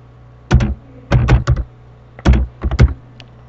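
Short bursts of keystrokes on a computer keyboard while writing a document in Microsoft Word, close and crisp, coming in quick clusters separated by brief pauses, with no voices.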